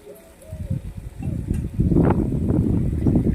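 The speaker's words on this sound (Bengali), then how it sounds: "এবারে দেখো চালটাকে খুব সুন্দর করে নেড়ে চেড়ে ভেজে নিচ্ছি" Soaked rice, steeped in a little milk, is stirred and fried in a pan for a Bengali muri ghonto with rohu fish head, giving a steady, close crackling sizzle with scraping that grows louder partway through, with no talk.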